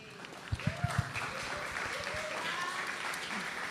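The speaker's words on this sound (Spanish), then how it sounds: "quiero pedir un aplauso para ellos, por favor." Audience clapping for the organizers at a conference panel on gender violence, a few sharp claps at first, then a steady wash of applause with faint voices underneath.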